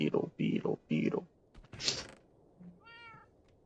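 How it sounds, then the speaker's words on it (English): A cat gives a few bursts of meowing, loud and close, followed by a brief clatter that sounds like a keyboard and a faint, higher, tonal meow at the end. "Yes, the meow."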